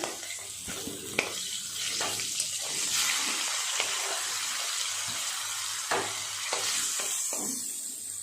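Small puti fish sizzle and crackle in hot oil with a steady hiss, broken by occasional utensil clinks and sharp pops.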